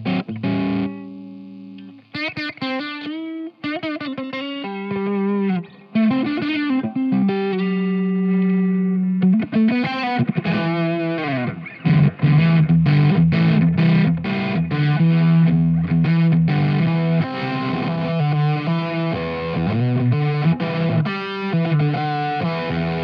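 Electric guitar through a Valco KGB Fuzz pedal on its first setting: loud, gritty fuzz-distorted notes and short phrases, some sustained and some quickly picked, played alone without voices.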